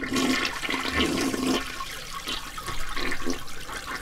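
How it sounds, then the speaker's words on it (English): A toilet flushes nearby, a loud rushing gush of water that fades into gurgling and refilling trickles, with no voices. "You know how mad they get when you don't flush the toilet?"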